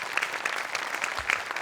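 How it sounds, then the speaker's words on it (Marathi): An audience claps loudly for writers during a Marathi comedy show, a dense burst of applause from a large crowd, close and sustained. "त्यामुळे जगातल्या सगळ्या लेखकांसाठी एकदा जोरदार टाळ्या"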